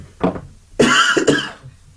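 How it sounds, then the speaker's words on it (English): A single short cough, then a louder double cough close to the microphone, with quiet pauses between. "oh gosh, I had a cough"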